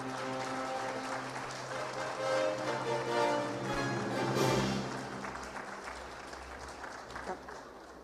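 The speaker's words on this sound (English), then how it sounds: "I want to hear Jaipur clapping for Latika." An audience in Jaipur applauding as a guest is welcomed on stage at a live event, with sustained clapping swelling and fading over several seconds and a crowd noise backdrop.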